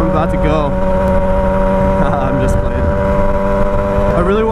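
A street bike engine runs close and loud with a steady harmonic drone that rises slightly in pitch as it accelerates, and brief rider speech sits over it.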